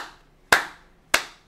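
Two sharp, loud hand claps sound close by about half a second apart, each decaying quickly into near silence.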